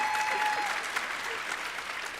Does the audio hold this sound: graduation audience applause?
yes